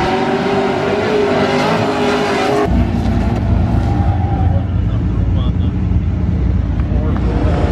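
A drifting car with a centrifugal blower and no turbos at a Car Craft Summer Nationals event, loud engine roar and tire noise, changing sharply partway through, with a voice over it.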